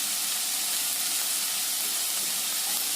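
Onions and tomatoes sauté in a hot pan for drumstick gravy, giving a loud, steady, unbroken hiss and sizzle with no talk.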